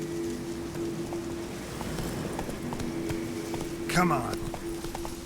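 A horse gallops in The Witcher 3, its hoofbeats drumming steadily with rain-like patter behind them. Someone speaks briefly near the end.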